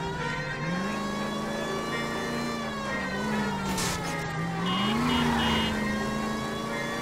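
Car engine straining in a police chase in LA Noire, a continuous whining drone that rises and falls in pitch as the driver accelerates, steady and close with no talk.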